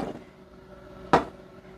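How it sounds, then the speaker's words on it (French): Rotary cheese grater being taken apart, its cone pushed out, giving one sharp close plastic click or knock after a softer bump, otherwise quiet. "On dévisse la poignée. On pousse le cône, tout simplement."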